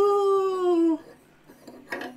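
A dog gives one long, loud tonal howl that holds steady and drops in pitch at the end, close by, followed by quieter small rustles and a brief yip-like sound.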